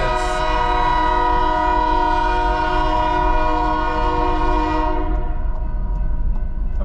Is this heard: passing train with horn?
yes